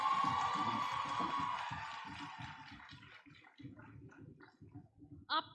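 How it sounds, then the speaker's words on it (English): A dense crowd at a college cultural fest erupts in loud applause and whooping cheers, strongest at first and then thinning into scattered clapping, with a shrill whistle near the end. "they would really appreciate if we give them a really thunderous applause"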